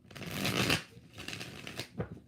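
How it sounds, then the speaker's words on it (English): Tarot cards being shuffled by hand in a few bursts of papery riffling and soft slaps, close and fairly quiet, with short pauses between passes and no talking. "4 shuffles."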